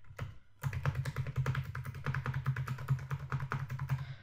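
Fingers type quickly on a computer keyboard, producing a steady run of close, crisp keystrokes with no voices over them.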